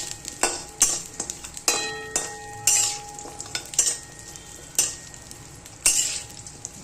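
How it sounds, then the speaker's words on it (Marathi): Dates and dry fruits roast in oil in a pan for laddoos, with repeated scraping and clinking of a spoon against metal over a soft sizzle, the strokes coming in irregular bursts close by. "चांगलं भाजून घ्यायचं हे तेलामध्ये"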